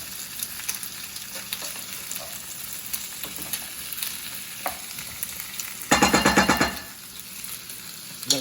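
Food sizzles steadily in a frying pan while being stirred, with a constant hiss and a loud rattling scrape of the stirring utensil near the end.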